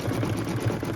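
Sewing machine running steadily, needle stitching out a decorative outline in gray thread on a fabric apple trivet; close, fast even rhythmic chatter of the mechanism with no voices.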